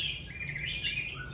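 A hwamei songbird sings a continuous, bright warbling phrase, clear and fairly close, over a low steady background hum.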